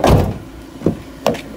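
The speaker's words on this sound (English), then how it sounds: "Got your sliding door here." Volkswagen Crafter van sliding door being worked, a loud close rumbling slide followed by two sharper knocks and clunks spaced apart, with no speech.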